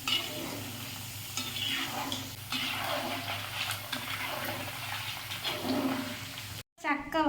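Jackfruit chips fry in hot oil with a steady, crackling sizzle, and occasional stirring scrapes come through from close by. A short break in the sound falls near the end.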